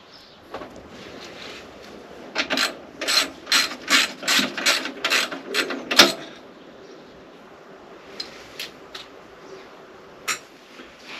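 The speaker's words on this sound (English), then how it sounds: "Just got to unbolt those so you can remove the tank." Ratchet wrench working the fuel tank bolts loose on a BSA A10 motorcycle, a close, loud run of about a dozen evenly spaced clicking pawl bursts, a sharp metallic clink, then a few scattered clicks after a pause.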